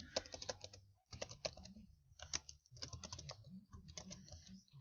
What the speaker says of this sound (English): here you would type in your name.